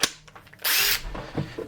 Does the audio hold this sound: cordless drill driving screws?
yes